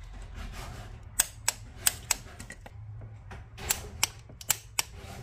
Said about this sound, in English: I'm gonna torque them to 15 foot-pound